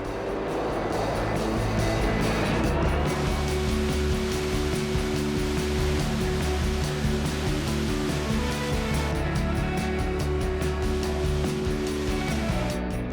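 A concrete mixer truck is loaded from a batch plant hopper, with a loud, steady rush of material pouring in over a continuous engine rumble and drum churn, sustained throughout.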